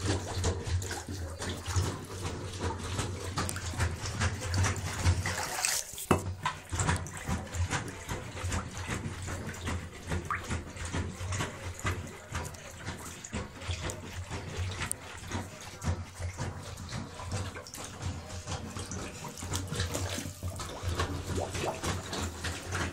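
Tap water runs steadily into a plugged container, filling it with a continuous broadband rush and a brief interruption midway, loud and close with no talk.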